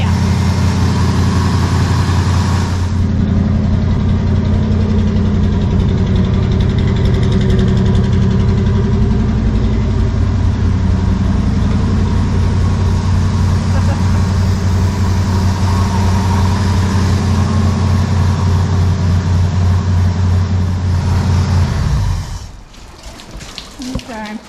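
Ford 302 V8 in a 1968 Chevy C10 on its first real start, idling loud and steady with a deep throbbing drone for about twenty seconds before abruptly shutting off.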